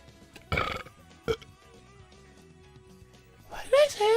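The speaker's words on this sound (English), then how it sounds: "About the burping?" A person burps loudly twice up close against a quiet background, and a voice follows right after.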